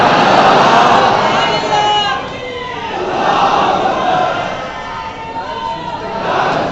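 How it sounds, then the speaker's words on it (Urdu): A large crowd at a religious gathering in Nagpur, Maharashtra shouts a takbir slogan in loud, surging waves of massed voices, rising and falling across several seconds. "نعرے تکبیر کے ساتھ۔"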